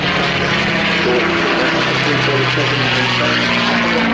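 A Red Tails propeller fighter aircraft flies at the Southport Air Show, its piston engine droning loud and steady throughout with a strong low rumble and a constant hum, while a commentator talks faintly underneath.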